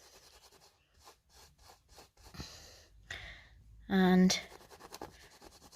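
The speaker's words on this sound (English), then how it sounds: "And then you're going to take your cloth" A cloth rubs hard over a large stain in a series of short scratchy strokes, close and fairly loud, with someone talking between them and one brief loud voiced burst near the end.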